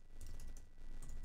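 Brisk typing on a computer keyboard, a short close burst of key clicks entering text, with no voices.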